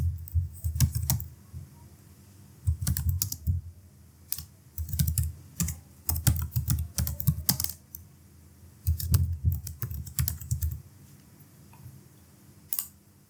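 Bursts of computer keyboard typing as a full name is entered into an online form, with clusters of crisp key clicks separated by short pauses, close and alone.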